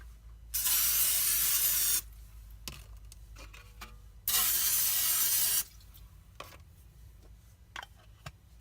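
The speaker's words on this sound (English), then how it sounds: "I'm going to spray them with butter flavored cooking spray." Butter-flavored cooking spray hisses onto tart pans in two loud, steady bursts about a second long each, separated by quiet gaps with faint ticking and clinks.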